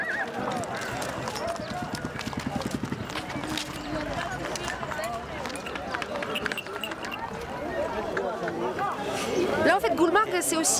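Horses clip-clop through a busy mountain village in Gulmarg, Kashmir, at 2,700 metres, their hooves under a steady hum of crowd chatter and passing activity, growing a bit louder toward the end.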